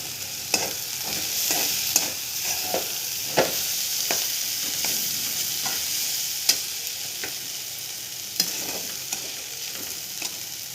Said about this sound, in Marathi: छान दोन तीन मिनटं फ्राय करायचं